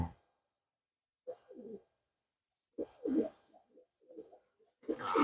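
Teddy pigeon squabs give soft, breathy coos and squeaky calls in short, separate bursts with quiet gaps between them, close by in a quiet room.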